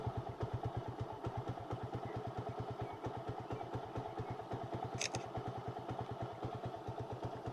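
A motorcycle engine chugs in a rapid, steady low pulse along garden paths, loud and close throughout, its cylinder and piston recently replaced, with a brief clatter partway through.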